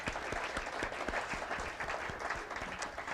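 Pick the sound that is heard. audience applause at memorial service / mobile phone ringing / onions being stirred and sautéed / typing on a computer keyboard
audience applause at memorial service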